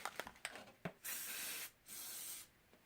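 Plasti Dip aerosol spray hissing in two long bursts after a few soft handling clicks, close and fairly loud, with a short pause between bursts.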